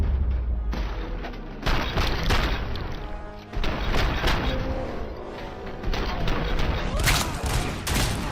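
Pistol gunfire in the Robocop Rogue City video game, a dense run of sharp shots and booming impacts across the whole stretch, loud and close, mixed with crashes and in-game noise.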